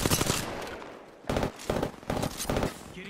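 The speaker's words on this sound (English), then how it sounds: "Getting shot at." Gunfire in the Apex Legends video game, a loud rattling burst of rapid shots followed by several shorter automatic bursts separated by brief gaps.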